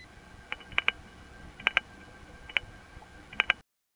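Sharp mechanical clicks in small clusters, mostly pairs, spaced irregularly over a faint hiss, like relays switching in a telephone exchange.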